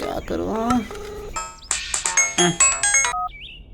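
A mobile phone ringtone plays a bright electronic melody of repeating chiming tones, loud and close, after a moment of talking.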